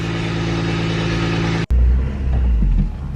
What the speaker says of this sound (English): Now we're gonna take it out for a little spin.